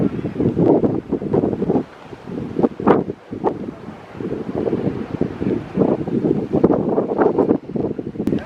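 Gusty wind blasting against the microphone in uneven bursts on a beach, with faint surf in the background and no talking.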